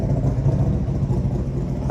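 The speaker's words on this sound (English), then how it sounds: "Do you really need a motorbike that loud?" A loud motorbike engine rumbles past at 5 a.m., a steady low drone that holds strong throughout the short stretch with no talk over it.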